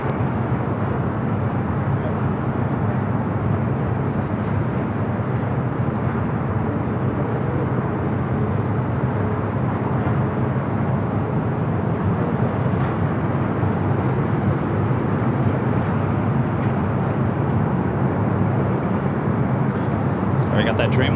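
A Boeing 787 Dreamliner rolls down runway 25 Right at Los Angeles LAX, a steady broadband jet roar holding for about twenty seconds at constant loudness.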